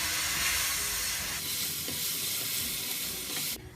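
Masala of turmeric, red chilli, salt and crushed chillies fries in a pan with a loud, steady hiss and sizzle, a few faint stirring knocks, then cuts off abruptly at the end.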